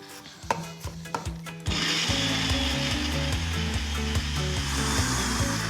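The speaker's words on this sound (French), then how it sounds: "vous pouvez commencer avec le mixeur si vous voulez." A kitchen blender chops garlic cloves with the germ removed, for a cod, cream and egg-white mixture. A few light clatters come first, then the motor kicks in with a loud, steady whirring roar that runs to the end.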